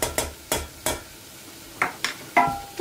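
Spoon scraping and stirring tomato paste into butter and flour in a frying pan, with repeated sharp scraping strokes over a faint sizzle, close up.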